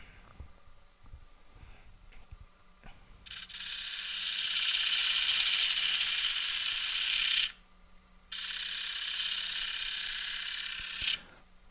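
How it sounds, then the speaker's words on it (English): Wood lathe spinning at increased speed while a tenon is turned on the workpiece, giving a sustained bright whirring hiss in two long stretches separated by a brief pause, with faint clicks before it starts. "Put a little bit more speed in the lathe."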